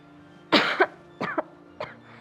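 Three separate coughs, the first strongest and the later ones shorter, close by against a quiet background.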